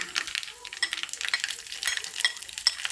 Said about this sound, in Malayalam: എണ്ണ ചൂടായി കടുകിട്ട് കടുക് പൊട്ടുമ്പോൾ പൊട്ടി വന്നു